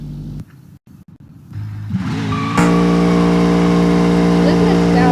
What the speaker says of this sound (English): It has a big block V8 engine.